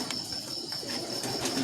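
A female Dubai pigeon at a pigeon breeder's loft coos softly in a short, low murmur against steady background hiss, fairly faint and alone.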